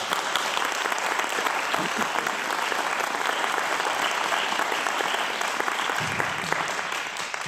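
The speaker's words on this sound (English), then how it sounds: "Can I please get a round of applause?" Audience at a Snoqualmie mayoral candidate forum giving sustained applause, a steady, moderately loud patter of many hands clapping from start to finish and tapering slightly near the end.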